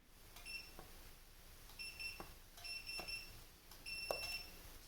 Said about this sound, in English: we're going to do a longer beep